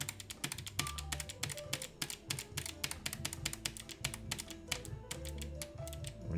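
Rapid irregular clacking of keys on a computer keyboard, close and crisp, with bursts of keystrokes and brief pauses, no voices.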